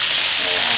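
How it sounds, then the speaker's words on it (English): Shrimp fry in hot oil with a steady, close hissing sizzle, alone and with no voices, for bang bang shrimp being cooked as an appetizer. "We're going to fit these in here so we can fry them all at the same time."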